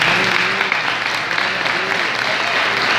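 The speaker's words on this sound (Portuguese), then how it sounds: "Você pode aplaudir ao Senhor Jesus." A church congregation applauding during a service: steady, dense clapping from many hands filling the room throughout, with faint voices mixed in underneath.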